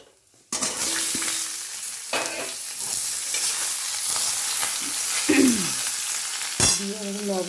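After a brief hush, fried shukto vegetables hit hot oil in a kadai with a sudden loud sizzle, followed by steady frying and the scrape and clink of a spatula stirring them.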